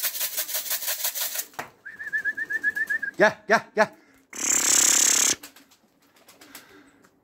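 Tumbler pigeons outdoors give soft rhythmic coos and brief wing flutters, while a voice calls out to the birds.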